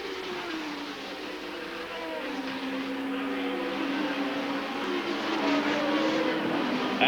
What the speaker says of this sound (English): they see the Brabham with its BMW turbo engine come into the stadium